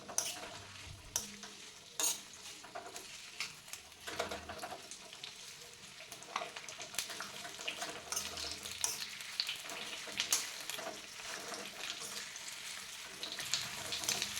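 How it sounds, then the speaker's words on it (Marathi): Herbs and other ingredients fried slowly in oil over a low gas flame for homemade Ayurvedic hair oil, giving a steady soft sizzle with repeated stirring scrapes and clinks close by. "स्लो गॅसवर 10 ते 15 मिनिटे आपल्याला हे सर्व साहित्य या तेलामध्ये छान असं कडवून घ्यायचं आहे"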